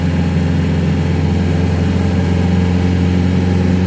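A Dodge Dakota fitted with a TDI ALH diesel and NSG370 transmission accelerates under turbo boost on the road, giving a steady, loud, close droning engine hum with no talking.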